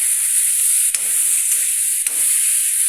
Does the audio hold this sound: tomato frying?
yes